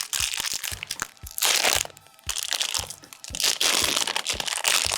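Small vegan mint chip ice cream packages being torn open, with loud close crinkling and crunching of packaging in repeated bursts, nearly alone with no talk.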